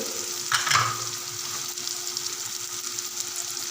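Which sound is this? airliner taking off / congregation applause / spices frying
spices frying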